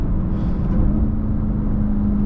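A Dodge Charger Hellcat engine heard from inside the car on a morning drive, a loud, steady low rumble and drone as it goes through a few downshifts, with no talk over it.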